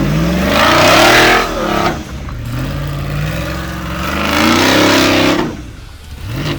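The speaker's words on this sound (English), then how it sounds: "what I love about the exhaust on this is when you start this thing, it's loud." LT1 engine breathing through a MagnaFlow exhaust revs loudly in two rising and falling pulls, deep and throaty up close, easing back between surges.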